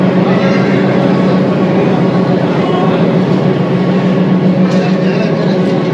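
Nilgiri toy train running near Ooty, a steady low rumble and rattle of the carriages under way, continuous and fairly loud with some chatter mixed in.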